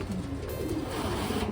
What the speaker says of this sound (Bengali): দেখাই তোমাদের কী কী পায়রা আছে এখানে।